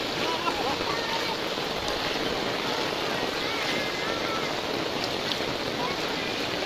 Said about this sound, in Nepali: रोडमाथि यति धेरै पानीको भाव छ